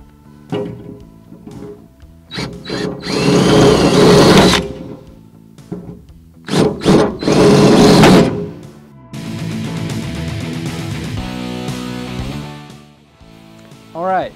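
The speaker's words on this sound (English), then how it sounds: "now I put a larger bit on, so we're going to make the hole a little bit bigger so the screws have an easier time to get in" A power drill with a larger bit enlarges screw holes in a metal bracket in a garage, sounding as several loud whirring bursts separated by pauses, with clunks and handling noise between.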